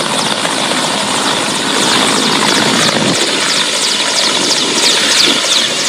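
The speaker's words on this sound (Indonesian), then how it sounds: "Wow, ini ada helikopter polis" Loud, continuous whirring of a police helicopter's rotors with a fluttering pulse in the high hiss, close and steady throughout.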